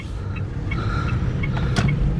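An electric car runs with a soft, steady low rumble of road and drive noise close by, with a few faint whirring and squeaking sounds over the top and no engine note.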